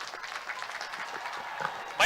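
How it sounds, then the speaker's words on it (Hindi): Scattered crowd applause at a public event with Olympians, soft and uneven for about two seconds before a sudden louder burst at the end. "भाई तालियां रुकनी नहीं चाहिए।"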